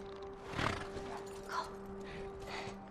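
A horse in The Last of Us on PS3 snorts and gives soft clip-clopping, huffing sounds, low and fairly near, over a steady electronic hum from the game.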